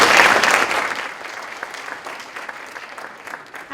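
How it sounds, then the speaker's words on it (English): An audience applauds a speaker at a morning business talk, a dense burst of clapping that starts loud and steadily thins out over a few seconds. "let's just give her a round of applause just for being here this morning"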